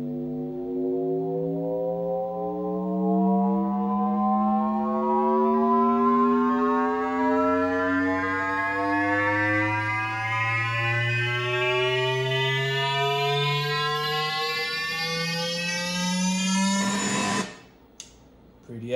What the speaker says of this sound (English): Two notes. Frequency sweep.